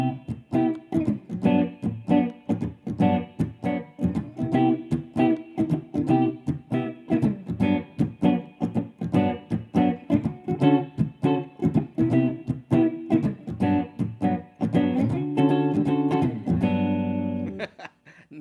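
Guitar plays a 12-bar blues progression using major 7 chords, steady rhythmic strumming with a sustained chord near the end, close and alone with no talking.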